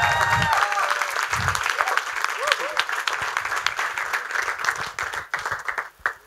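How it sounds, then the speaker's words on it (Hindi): An audience at a college film production event applauds, with dense clapping that gradually thins and tapers off toward the end, while voices talk over it at times. "उन सब के लिए बहुत बहुत बहुत तालियां हो जाए"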